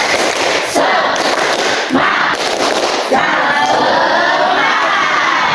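Schoolchildren in a classroom do the tepuk semangat clapping chant, with rhythmic group claps and loud shouted calls. Bursts of sharp clapping alternate with energetic voices, close and lively throughout.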